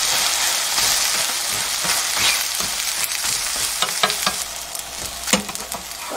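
Haemul pajeon, a seafood and green onion pancake, sizzles in oil in a frying pan over low heat. The close, steady frying crackle comes with occasional light scraping clicks, and no one speaks.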